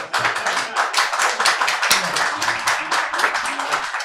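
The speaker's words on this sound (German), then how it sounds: "Bravo, Applaus, Applaus," Quick rhythmic clapping from a small group rings out close by, with a voice talking over it.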